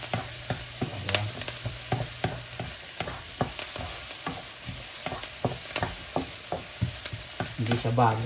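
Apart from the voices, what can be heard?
sautéing bamboo shoots for adobong labong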